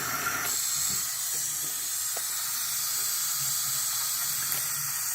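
Water pours into a small medicine bottle packed with airsoft BBs, a steady close hiss of running liquid lasting the whole stretch with a few faint clicks beneath.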